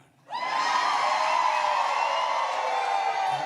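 A crowd at a Joe Biden Democratic National Committee event in New York breaks into cheering and whooping that swells abruptly, then holds as a steady, full roar of many voices.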